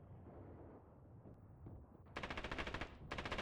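Rapid machine gun fire in the wargame Graviteam Tactics, with loud rattling bursts that start after about two seconds of low rumbling battle ambience and continue in dense, repeated volleys, briefly pausing before resuming.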